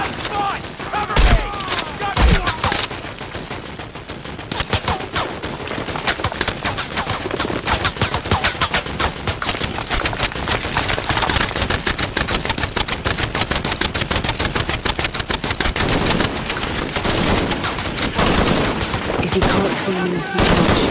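Sustained automatic gunfire from the video game Shadow of the Tomb Raider, dense rapid bursts and shots rattling almost nonstop and loud, with occasional voices under it.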